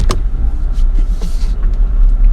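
A 2015 Range Rover Sport is driven slowly while turning around, giving a short, low, rumbling drone with a few faint knocks close by.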